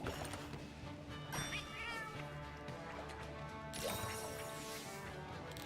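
A Prowler cat companion in Monster Hunter Generations Ultimate gives a few short, faint meows over quiet game background sound, with a clatter of in-game action between them.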